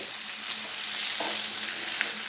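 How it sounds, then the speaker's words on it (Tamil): Quail frying dry in a pan gives off a steady, moderately soft sizzle and hiss that runs without a break and without voices. "இன்னும் கொஞ்சம் ட்ரையாக வறுத்து எடுத்துக்க போகிறேன்"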